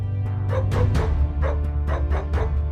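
Dog barks and yips arranged into a theme melody, a steady musical run of rhythmic bark notes over a sustained low backing, loud and continuous.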